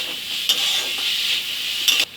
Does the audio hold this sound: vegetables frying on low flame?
yes